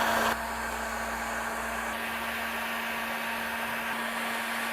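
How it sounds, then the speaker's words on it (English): A heat gun blows steadily over epoxy resin that is being swirled into a Carrara marble pattern, a constant hot-air roar with a low electrical hum that stays unbroken for several seconds, with no talking. "You just create real organic movements with your heat gun."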